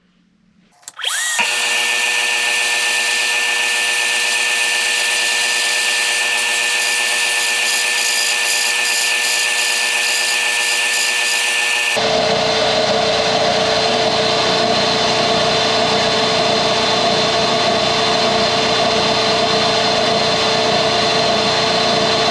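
A Harbor Freight belt sander starts up and runs steadily as it rounds over an aluminum edge, a loud continuous whine that shifts to a rougher grinding tone partway through, with no talking.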